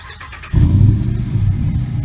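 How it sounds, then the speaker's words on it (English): A 2017 Ram Sport with a 5.7-liter V8 and active exhaust fires up: a quiet moment, then a sudden loud, deep roar that settles into a throaty, rumbling idle. "Fires up like a boss."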